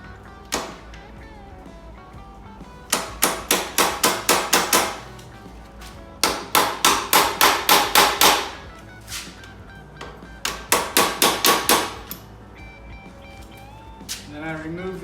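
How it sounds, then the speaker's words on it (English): Axle nuts on a Himiway e-bike rear wheel are tapped into their slots in three quick bursts of about eight sharp metallic knocks each, loud and close, with someone talking at the start and end. "I'm going to tap on the nuts. Not hard, but just enough to get them down all the way into the slot and fully seated."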